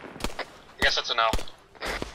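Gunfire in Arma 3, several sharp close shots at irregular intervals, mixed with radio-like voice chatter between the shots.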